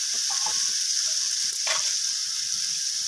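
Vegetables with spices frying and being stirred in a pan for a spinach dish, a steady close sizzle with intermittent scraping and stirring knocks.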